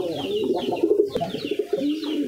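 Domestic pigeon cooing at close range, a soft throaty run of repeated rolling coos with a few quieter bird sounds behind.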